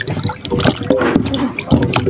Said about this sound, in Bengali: জলপাইগুলোকে ধুয়ে নেব।